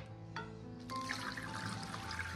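Water is poured over spinach cuttings set in a container, starting as a light trickle and then swelling into a fuller, splashing pour that continues steadily up close.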